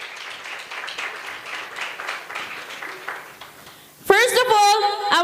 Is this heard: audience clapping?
yes